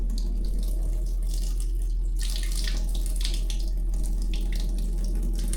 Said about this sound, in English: And then we're gonna drain off the water.